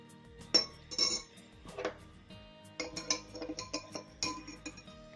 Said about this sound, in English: Stir with the help of the spoon.